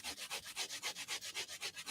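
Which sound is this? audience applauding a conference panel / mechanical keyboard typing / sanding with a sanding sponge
sanding with a sanding sponge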